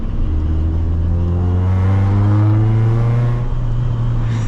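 A car engine with long gearing pulls hard in second gear while driving, a loud, steady droning rumble whose pitch slowly climbs, heard from inside the cabin and needing an alignment.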